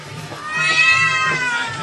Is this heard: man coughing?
no